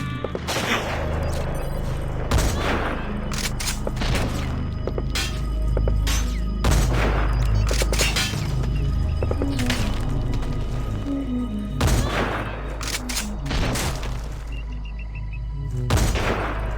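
Heavy gunfire in Metal Gear Solid 5: The Phantom Pain, with loud booming shots and cracks recurring every second or two over a constant low rumble of combat, dense and close throughout.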